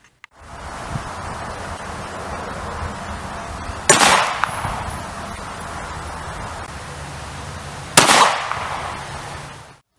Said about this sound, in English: we're going to go ahead and fire 2 rounds into the ballistics gel, one from a Glock 19, the other from a Glock 26